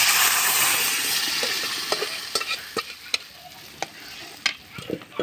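Lentils added to fried onions in a pan sizzle steadily while a spoon stirs, giving scattered scraping clicks that grow sharper toward the end; the frying hiss starts loud and slowly fades.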